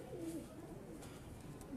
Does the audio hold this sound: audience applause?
no